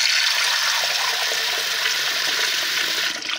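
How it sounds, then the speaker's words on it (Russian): Water running steadily from a tap into a kitchen pot holding washed beans, a continuous close hiss and splash that stays level throughout, with no talking over it. "Заливаем водой."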